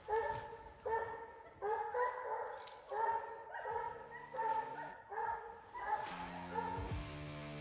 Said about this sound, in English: Well, May has treed